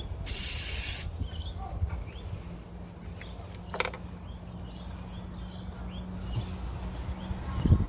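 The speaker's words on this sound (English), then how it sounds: "Clean rag, bit of degreaser" Degreaser sprayed from a can while installing turbo pedestal parts on a 7.3 Powerstroke diesel, one close sharp hiss lasting about a second, followed by quieter shop clatter and faint handling sounds.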